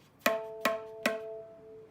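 Three sharp, ringing high-pitched tabla strokes in an even rhythm, each a crisp tap with a short singing tone that fades, played close and alone.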